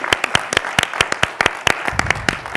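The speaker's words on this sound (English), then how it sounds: "Please join me again in a round of applause" Audience applause at an indoor panel event at the National Archives, with many sharp claps ringing out close together, steady and lively from start to finish.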